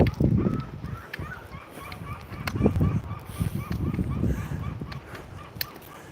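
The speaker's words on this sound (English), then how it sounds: "I don't know if you can hear the gulls in the background." Repeated honking bird calls, like gulls, sound at a distance over a noisy outdoor background, with no speech.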